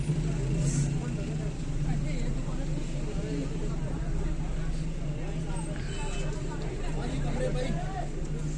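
Dense idling and creeping traffic jammed along Mall Road in Murree, a steady low rumble of car and bus engines with a background murmur of voices and hawkers, continuous and fairly close.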